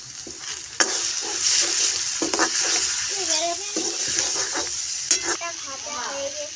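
Ginger-garlic paste, turmeric, salt, cumin paste and five-spice mix sizzle and fry in a pan for a chicken dish, with steady crackling and repeated scraping stirs, loud and close, while a voice speaks briefly.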